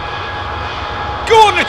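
Heavy airliner with Rolls-Royce Trent engines at London Heathrow, a steady loud engine roar held throughout, with a voice speaking briefly near the end over it.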